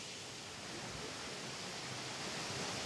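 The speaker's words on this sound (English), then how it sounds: "every single person has already seen this waterfall at Bard College" Waterfall at Bard College, a steady broadband rush of falling water, soft and continuous with no pauses, heard on its own without voices.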